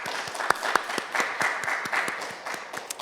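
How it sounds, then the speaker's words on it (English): Scattered, fairly sparse clapping from a modest keynote audience at a computing education conference, individual claps distinct and uneven, at moderate level with no talk. "Everyone, please join me in giving him a big round of applause."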